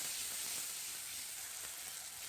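A paste of tomato, ginger, garlic and green chilli sautés with five-spice in a pan, giving a faint, steady hiss of sizzling that runs evenly throughout with no talking.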